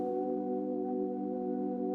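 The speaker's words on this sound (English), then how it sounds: "basically what you're hearing right now is a little whistle." A sampled little whistle sits inside a music production, with a vinyl dirt layer beneath it: a sustained, quiet, steady tone with layered harmonics holding evenly for about two seconds, no voices.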